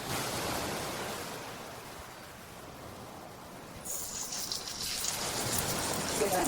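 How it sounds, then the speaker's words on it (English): Steady hissing sizzle of cottage cheese pancake batter frying in hot oil in a pan, growing louder and crackling more as more batter hits the pan. "that nice sizzle."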